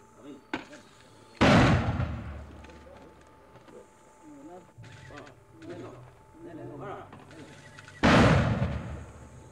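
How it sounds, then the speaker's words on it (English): Mortar fire and gunfire during the Salvadoran war, heard as two heavy booming blasts several seconds apart with scattered sharper reports and background activity between them, fairly close and loud. "It's the Guard that now attacks, usually following a barrage of mortar fire."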